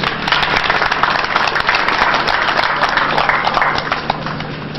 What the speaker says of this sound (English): I think we could give the governor a round of applause.